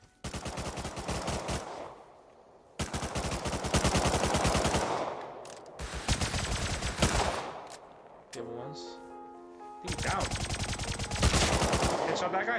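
Gunfire in the Rust survival game: loud, close automatic weapon fire in several dense bursts separated by short pauses, with a brief tonal interlude before a final burst.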